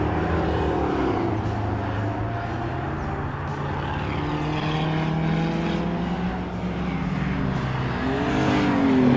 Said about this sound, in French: Une Datsun.